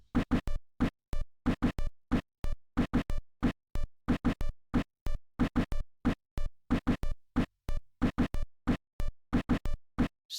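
A chiptune-style NES drum beat from the Super Audio Cart library, made of short, crisp, noisy hits in a steady, fairly slow repeating pattern, played quietly with clear gaps between strikes.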